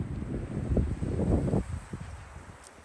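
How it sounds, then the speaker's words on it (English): Wind gusting outdoors across a winter garden hillside of little bluestem grass, a low rumbling buffet against the microphone that swells and then eases off, with no talking. "And the wind is picking up"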